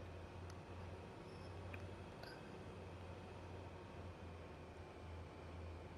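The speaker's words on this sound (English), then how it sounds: "The train is slowly moving." A train rolls slowly in Train Sim World 2, heard as a steady low rumble with faint rail hiss and a few light clanks, quiet and continuous with no talk.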